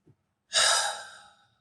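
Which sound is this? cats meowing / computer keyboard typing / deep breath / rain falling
deep breath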